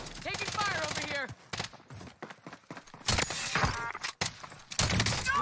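Gunfire in Call of Duty: Warzone, sharp bursts and single shots crackling near and far across the whole stretch, mixed with game effects and other clatter, with people talking over it.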